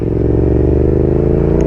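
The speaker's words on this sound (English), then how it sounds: "this one has a hot bodies racing, full racing exhaust" A Yamaha FZ-07 motorcycle fitted with a Hot Bodies Racing full racing exhaust runs at a steady, loud, throaty idle close by, its deep engine pulse unbroken for the whole stretch.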